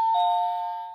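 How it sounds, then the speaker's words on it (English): A toy doorbell rings once, a clear, close electronic chime that holds a steady tone and slowly fades, alone with no voices. "Doorbell work."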